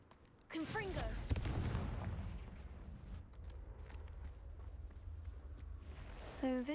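A Confringo blasting spell in Hogwarts Legacy bursts into a loud, deep explosion that quickly swells after a short voice, then rumbles and fades over several seconds, with a voice returning briefly at the end.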